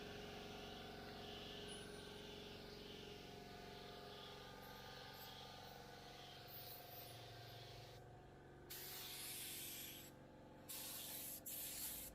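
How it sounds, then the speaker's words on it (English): Spray gun laying a heavy coat of direct-to-metal primer over a bare metal car body panel during dent repair, a steady close hiss with brief pauses and bursts near the end. "So I am laying a second heavy coat of primer on this panel."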